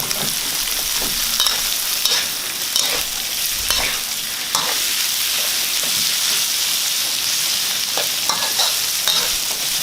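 Fish being stir-fried in hot oil in a pan before stewing, a dense continuous sizzle like rain, with occasional scraping stirs from a utensil and nobody talking.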